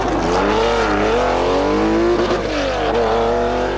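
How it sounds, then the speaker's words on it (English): A Porsche rally car at the 1982 Cork 20 International Rally, its engine revving hard and loud close by, rising and falling pitch through gear changes over a steady roar. "the raucous Porsche"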